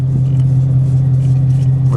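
A 2015 Dodge Charger R/T engine drones loud and steady from inside the cabin on a drive, a constant low rumble with no clear revving.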